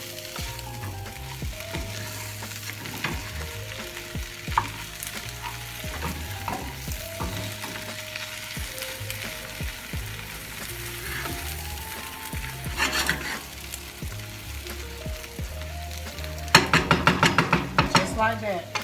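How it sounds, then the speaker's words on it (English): Eggs are broken down and folded into ingredients frying in a pan, a steady sizzle with stirring scrapes and utensil knocks against the pan, busier clatter near the end, no speech. "Break them down and mix them in with it. Just fold them in."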